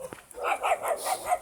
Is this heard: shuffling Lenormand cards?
no